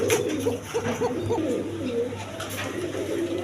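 A pair of yellow American fantail pigeons coo in soft, repeated throaty phrases, close by over a low steady background hum.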